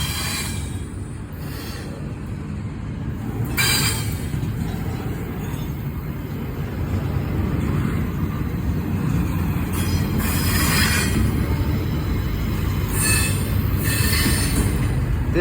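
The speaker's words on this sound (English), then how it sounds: "CSX 98, going through this railroad crossing right here." A CSX Intermodal 98 freight train rolls steadily through a railroad crossing nearby, its wheels squealing in sharp bursts over a continuous low rumble of rail cars, with no talk.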